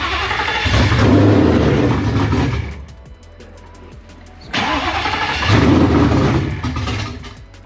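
A supercharged Ford Fox body car with 1,000 injectors and no tune revs loudly and close up, in two long bursts separated by a brief drop to a rougher idle.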